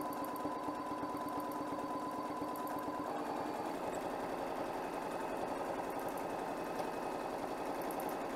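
Sewing machine stitching small free-motion swirls in a quilt, a fast steady needle hum close by that changes pitch partway through as the speed shifts, running continuously without talk.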